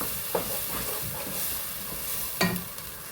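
Masala frying in a pan for Hyderabadi paya, with a steady loud sizzling hiss and a couple of brief scraping stirs of a spoon against the pan.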